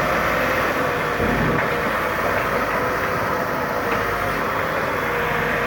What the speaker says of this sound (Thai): เครื่องยนต์วัดรอบต่ำนะพี่น้องนะ